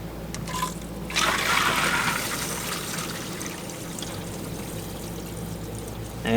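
Water rushes and pours through the plumbing of a 2008 Forest River Georgetown 357 RV motorhome as the system is repressurized, surging in suddenly after a quiet moment and then flowing steadily, close and loud.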